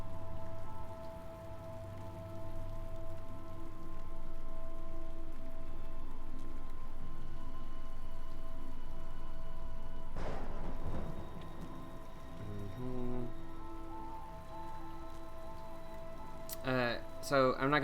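Steady rain falls in the video game Typoman, a constant hissing patter that runs throughout, broken by a louder crackling burst midway and a few sharp chimes near the end.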